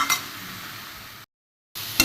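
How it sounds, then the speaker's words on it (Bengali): Chicken mince is stir-fried in a pan for ghugni, with a soft sizzle and scraping stirring noises. The sound breaks off into a moment of silence, then a quick clink and stir follow. "কিমাটা এর সাথে একটু কষিয়ে নেবো ভালো করে"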